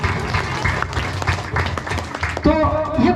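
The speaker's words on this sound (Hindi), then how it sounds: "एक बार मारूफ भाई के लिए भी जोरदार ताली बजाते हैं।" An audience claps loudly at a prize distribution ceremony, a burst of applause from the crowd that swells near the end.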